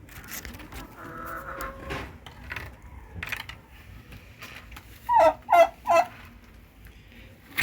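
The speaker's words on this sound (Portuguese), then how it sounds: "esse peru aqui é que faz muito barulho" Domestic turkeys gobbling in a backyard pen, three loud rapid gobbles close by near the end after quieter farmyard background noise, no talk.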